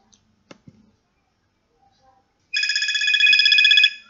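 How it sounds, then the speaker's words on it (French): A telephone rings with a steady electronic ringtone, loud and close for about a second and a half after a few soft taps and clicks, with no talk over it. "Comme vous entendez, mon téléphone sonne"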